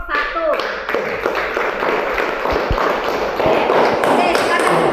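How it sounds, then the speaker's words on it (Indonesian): Classroom group applauding for the first presenting team: a steady mass of claps fills the whole stretch, fairly loud and close, with a few voices mixed in. "Jadi beri tepuk tangan untuk kelompok 1"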